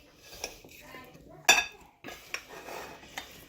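A utensil scrapes and clinks against a pan while honey glazed carrots are stirred together, with one sharp metallic knock and light scraping around it.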